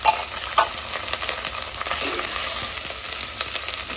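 Onions sizzling steadily as they fry with ginger-garlic paste and turmeric for a fish curry, a constant bright hiss with a few stirring scrapes near the start and no voices.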